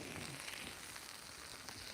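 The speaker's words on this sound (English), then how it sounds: "Look at that, hear that sizzle?" Burgers sizzle over an open campfire outdoors at night, a steady broadband hiss and crackle of frying fat, continuous and fairly close with no talk.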